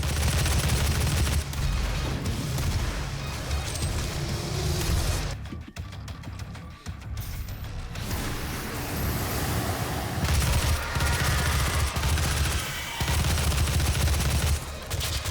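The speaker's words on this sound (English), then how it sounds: "that gun sounds so cool" Video game gunfire in DOOM, heard as dense, loud, continuous shooting layered with booms and game music, a brief lull in the middle, then the barrage resumes.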